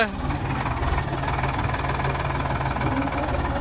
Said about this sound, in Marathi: कमलाकर आलेला आहे ट्रॅक्टर घेऊन